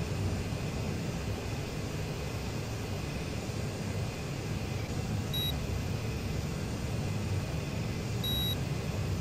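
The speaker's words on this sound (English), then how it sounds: "There you can hear the search radar of the SA-15. It's a long drawn out beep." Inside a Saab AJS-37 Viggen cockpit in the DCS combat flight simulator, the radar warning receiver gives two short, high, clean beeps a few seconds apart, marking an SA-15 search radar, over a steady engine and cockpit hum.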